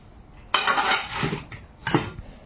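A metal lid set onto a pan of greens cooking in turmeric, heard as a sharp clatter followed by a softer scrape and a second clank; no talking.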